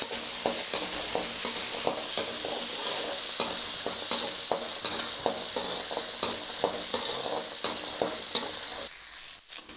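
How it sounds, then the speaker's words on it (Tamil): Onions frying in a pan for a mutton curry, a loud continuous sizzle with steady rhythmic scraping of a stirring spoon throughout, close up, fading slightly at the very end. "நல்லா வெங்காயம் வதங்கணும்."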